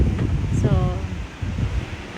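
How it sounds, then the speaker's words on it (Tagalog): Strong storm wind buffeting the microphone outdoors in the evening, a steady low roar with gusty rumble, while a person talks over it. "And sobrang hangin."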